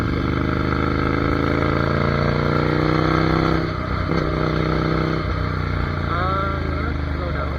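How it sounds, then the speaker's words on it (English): A Ducati Monster 797 motorcycle engine drones steadily while riding, then shifts from engine braking back onto the throttle with a rising rev, loud and close. A person talks over it. "Engine brake, gas, engine brake, gas"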